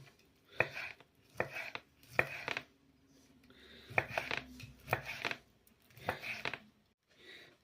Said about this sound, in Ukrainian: і скибочки нарізаємо на соломку